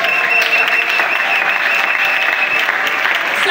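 Church congregation claps steadily and cheers in acclaim of God during a worship service, a loud continuous wash of applause filling the hall throughout.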